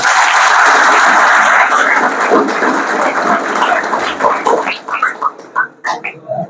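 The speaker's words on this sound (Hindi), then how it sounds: "एक बार जोरदार तालियां अपन सबके लिए" Loud, dense applause from a large audience, sustained at first and then thinning into scattered individual claps that fade out toward the end.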